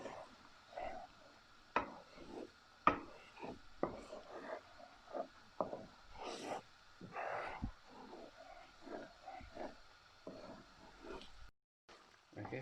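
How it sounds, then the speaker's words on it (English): A spoon scrapes and taps through walnut halwa cooking in milk in a pan, in an irregular run of soft scrapes and clicks over a faint background hiss. "You need to keep stirring it and let the milk"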